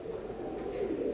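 Oman bloodline teddy pigeons coo in a low, steady murmur, a continuous close rumble of soft calls with no pauses and no voices.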